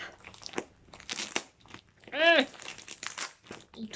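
Crinkling and crackling of plastic packaging as a small Vinted parcel is torn open, close-up rustles and crunches in bursts, with a short voice-like squeak in the middle.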